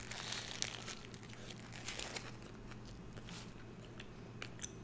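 Close-up chewing and crinkling as someone eats an In-N-Out animal style burger, with steady wet munching and paper wrapper rustle throughout.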